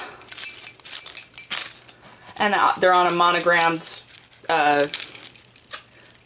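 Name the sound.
keys jangling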